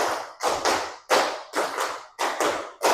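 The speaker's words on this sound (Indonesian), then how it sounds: "Tepuk 5 2 kali." A class claps in a quick rhythmic pattern of paired claps during a group clapping game in a counseling lesson, five clear bursts in steady succession, loud and close with no voices.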